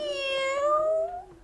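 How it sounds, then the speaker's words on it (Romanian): A cat gives a single drawn-out meow, clear and close, with a bright tonal cry that slides slightly upward and fades, alone without talk. "Dar tu, Tilet, pisicuța mea, tu nu ai să ne spui nimic?"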